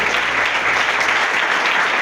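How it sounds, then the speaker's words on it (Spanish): Church congregation applauding for Jesus Christ, a dense, steady wash of clapping from many hands that fills the whole stretch at even loudness, with no voices standing out. "Aplauda a Jesucristo de Nazaret ahora."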